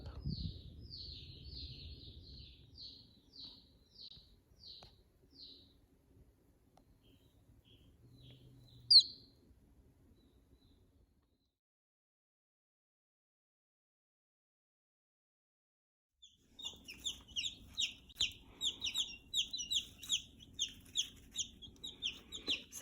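Young Cornish cross chicks chirp in rapid peeping runs, mixed with low clucking; the calls come in bursts near the start, fall quiet for several seconds, then return as dense, steady peeping toward the end.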